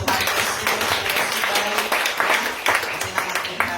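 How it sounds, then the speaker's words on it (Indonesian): A church congregation applauds with lively, uneven clapping throughout, and voices can be heard within it. "Kasih tepuk tangan dong buat Tuhan Yesus."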